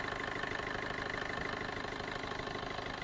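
A 2019 Maruti Suzuki Brezza ZDi automatic idles with a steady, even engine hum and faint rhythmic ticking, heard alone at a moderate level.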